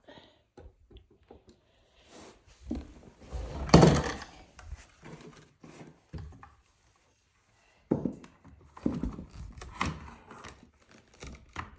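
Hammer nailing into a stacked piece of wood while closing in an open floor in a house renovation: scattered hollow knocks and thunks, one louder cluster of impacts, then more irregular taps at moderate distance.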